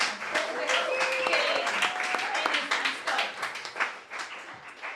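Audience at a live bar show in Baltimore applauds the musicians: dense, steady clapping fills the room throughout, with a few whistles and cheering voices mixed in, easing slightly toward the end.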